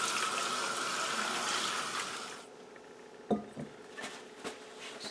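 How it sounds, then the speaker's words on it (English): Running tap water over moose meat in a kitchen sink, a steady broadband rush for the first half that then stops, followed by a few scattered clunks and handling sounds. "Now that the meat is all rinsed and ready for cutting"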